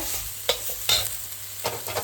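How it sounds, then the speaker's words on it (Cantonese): Onions sizzle and crackle in a lightly oiled hot wok while a utensil scrapes and stirs them a few times, close by with no talking. "將啲洋葱擺落去，爆下佢。"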